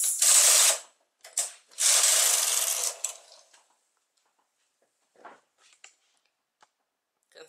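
An SK280 knitting machine carriage is pushed across the needle bed to knit a row, giving two loud mechanical rattling sweeps close by, then faint scattered clicks.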